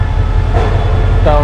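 Train from Thailand at Padang Besar railway station, a steady rail rumble close by with a brief voice speaking partway through.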